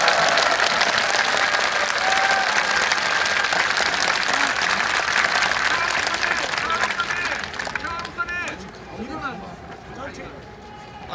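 Sustained crowd applause and clapping fill an outdoor rally on the steps of the National Assembly main building, loud and steady before thinning out toward the end, with some murmuring voices underneath.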